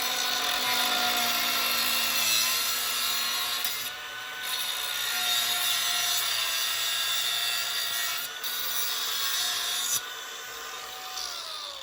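A Ridgid angle grinder cuts through metal with a high, steady, abrasive whine. Short pauses and changes in pitch break it up as the cut goes on, and it stays close and fairly loud with no talking.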